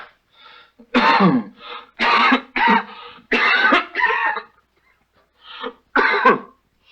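Several harsh, wet coughs and throat-clearing bursts in a row, close and fairly loud, with short pauses between them and no talking.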